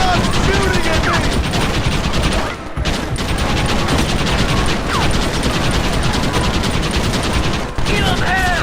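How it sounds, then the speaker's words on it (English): Dense gunfire rattles through a shootout in the video game Red Dead Redemption, rapid volleys of rifle and pistol shots crackling continuously and loudly with only brief gaps, under shouted voices. "Stop shooting at me!"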